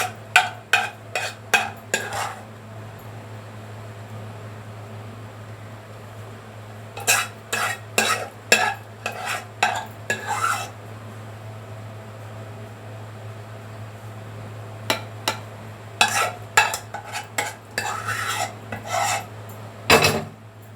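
A metal spoon scrapes and rasps against a cooking pot while levelling a spiced dish, coming in quick bursts of gritty strokes separated by pauses, close up over a steady low hum.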